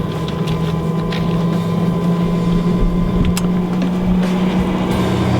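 A Traeger Junior Elite 20 pellet grill runs with its fan and auger going, a steady close mechanical hum with a low drone and occasional light ticks, without talk.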